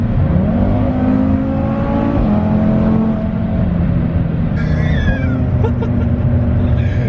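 A 500whp Audi RS3 under launch control and full throttle: loud, close engine roar climbing through the revs, dropping briefly at a gear change, then pulling hard again, with a voice briefly heard near the end.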